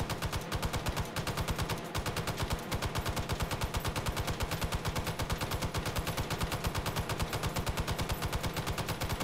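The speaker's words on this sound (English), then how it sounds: "I'm gonna spend this whole video just firing the M60." An M60 machine gun fires in long sustained bursts, a rapid, even stream of loud shots inside the Hot Dogs, Horseshoes & Hand Grenades VR game, with no voices.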